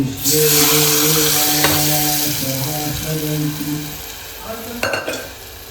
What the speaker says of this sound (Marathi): आपला तेलसुद्धा गरम होते लगेच फोडणी देते